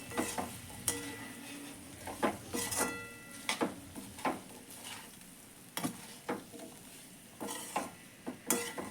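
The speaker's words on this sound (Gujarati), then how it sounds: "હવે આને 2 મિનિટ સુધી આપણે મસ્ત ફેરવીને મસાલા સાથે એ કરી દઈશું, મેશ કરી દઈશું" Gatta, Rajasthani gram-flour dumplings, being stirred and mashed with spices in a pan, with quiet sizzling under repeated sharp scrapes and taps of a spoon against the metal, coming in irregular bursts.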